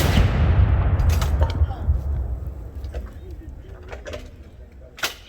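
Field artillery gun of a National Guard artillery battery firing during a drill, a loud booming blast that rolls and decays over several seconds, followed by fainter distant thuds and sharp cracks.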